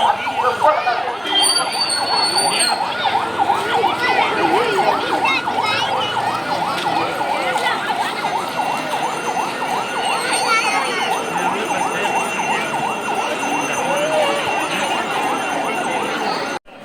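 An ambulance siren passing close by in Manapparai during a temple festival procession for Veppilai Mariamman, loud and wailing in a steady repeating cycle that holds throughout the clip.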